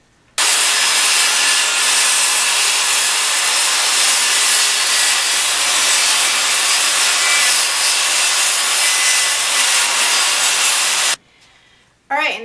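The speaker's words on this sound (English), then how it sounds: "And then here's the miter saw." A miter saw with a laser guide cutting wood, with the workpiece clamped down for a board-mounted window valance: a loud, steady, close whining roar runs for about eleven seconds, then cuts off abruptly.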